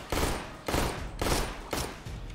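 Bursts of heavy video game gunfire in Counter-Strike on Source 2 repeat in steady volleys, each a loud, dense crackle lasting about half a second, with no talking over them.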